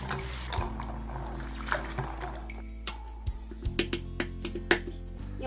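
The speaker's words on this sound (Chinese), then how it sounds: "将有壳的倒进来洗一下" Chestnuts in their shells are washed in water in a home kitchen, with sloshing, trickling water and hard nuts clattering against a bowl, faint and close, rising into a series of knocks toward the end.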